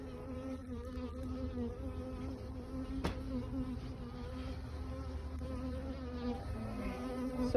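Honeybees buzz in a steady, close, dense hum throughout a beehive inspection for hive beetles and wax moth, with no talk over it.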